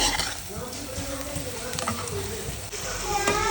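Pav bhaji vegetable mixture frying and being stirred in a pan, a continuous sizzle with scraping strokes while someone talks over it.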